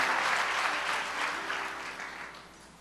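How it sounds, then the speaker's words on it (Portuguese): A church congregation breaks into sustained applause during a Christmas service, a dense wash of many hands clapping that holds steady, then gradually thins and softens toward the end. "Vamos aplaudir Jesus?"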